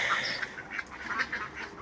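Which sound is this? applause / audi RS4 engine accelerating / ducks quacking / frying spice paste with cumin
ducks quacking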